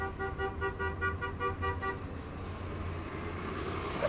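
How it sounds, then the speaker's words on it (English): A TTC transit vehicle horn sounds in a rapid series of short toots on a Toronto street, then traffic noise rumbles on with no voices. "Is that the TTC just honked at me?"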